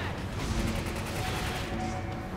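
Rapid, dense gunfire from enemies in the Resident Evil 5 video game rattles on without a pause, loud and continuous, like several weapons firing at once.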